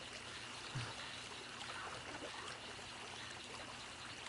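In the video game 7 Days to Die, water trickles and laps softly and continuously after a character jumps in, a faint, low-level stream-like flow with no speech.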